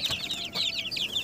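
Three-week-old chicks peep in a basket, a steady run of high, quick cheeping calls from several birds close by, with no talking.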